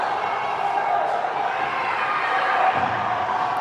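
Hockey crowd at a youth bantam game reacting with a steady murmur of cheering and voices in an arena, moderately loud and even throughout the short stretch.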